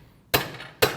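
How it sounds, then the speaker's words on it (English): Two sharp metallic taps of a ball peen hammer striking the center of a 2012-2016 Honda CR-V front axle while pushing it inward, each a loud, crisp hit with a short ringing decay, spaced about half a second apart. "I take a ball peen hammer, put it in the middle,"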